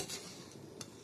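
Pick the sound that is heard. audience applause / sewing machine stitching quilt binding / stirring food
stirring food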